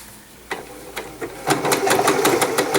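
A Janome sewing machine with a blind hem foot stitches a hem. A few isolated needle strokes are followed by a fast, steady run of rapid clicking stitches, close and loud, with no talking.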